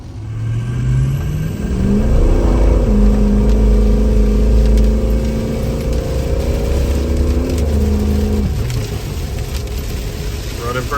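A Ford 6.0 Powerstroke diesel engine, freshly fitted with new cam and crank sensors after a loss-of-sync fault, runs close by, rising into a steady raised-idle drone and then dropping back down.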